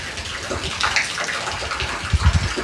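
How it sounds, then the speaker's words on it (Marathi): Water pumped from a pipe pours steadily into a deep village well, a continuous broadband rush with a few heavier low splashes near the end. "विहिरीमध्ये पाणी टाकायचं आहे"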